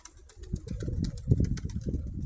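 Several pigeons coo in soft, overlapping low calls from a nearby flock just after pairing, with faint chirps and a wing flutter, no talk.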